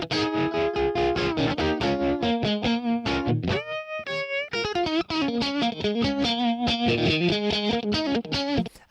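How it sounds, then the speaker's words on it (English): An electric guitar played through a Warped Dimension pedal on its rotary chorus setting with the tone knob fully up rings out in a fast run of swirling, warbling notes and chords, loud and continuous without any talking. "You can hear the rotary currently, right?"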